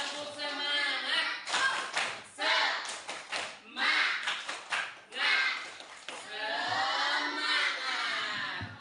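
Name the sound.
group rhythmic clapping, tepuk semangat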